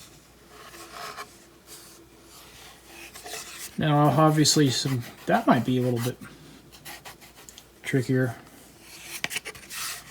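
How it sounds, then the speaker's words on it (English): Hand sanding on an old CVA Optima rifle stock gives a faint, repeated rasping scrape, partly buried under someone speaking in the middle of the clip. "just sanding it."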